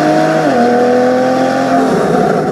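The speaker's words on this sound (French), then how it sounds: "Regardez ce bruit. On est bien dans une Porsche." A Porsche 911 GTS with all-wheel drive revs loudly from the cabin, its engine note rising and then holding a steady, strong drone.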